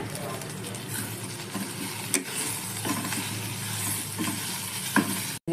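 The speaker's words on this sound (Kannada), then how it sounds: "ಅಷ್ಟನ್ನು ಸೇರಿಸಿ ಚೆನ್ನಾಗಿ ಫ್ರೈ ಮಾಡ್ಕೊಳ್ಳಿ ನೋಡಿ ಈ ಥರ ಹುರ್ಕೊಳ್ಳಿ" Chopped green chillies and raw tomato pieces frying in a pan for tomato chutney, giving a steady soft sizzle with occasional stirring clinks and scrapes, close and moderately loud, with no talk over it.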